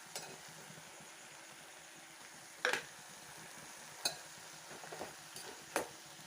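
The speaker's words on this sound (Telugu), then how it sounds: "సో ఇప్పుడు మనం కట్ చేసి ఉంచుకున్న టమాటాలు వేసేసుకోవడానండి" Chopped tomatoes tumble into a pan of frying beans and cauliflower curry, giving a few sharp clattering bursts over a soft steady sizzle, with occasional spoon or pan knocks.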